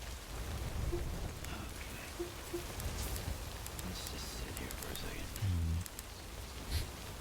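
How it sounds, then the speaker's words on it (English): Steady rain falls in the video game Death Stranding, a constant even hiss with a few soft thuds, while someone speaks briefly over it. "Rain is degrading my stuff though. My character's in-game stuff."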